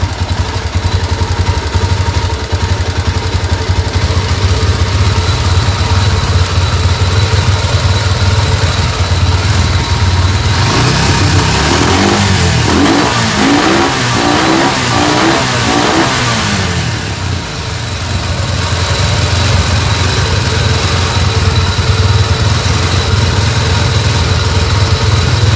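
Yamaha Tenere 350 supermoto engine, running without its radiator, holds a loud steady idle, then climbs through a burst of revving near the middle before settling back to idle.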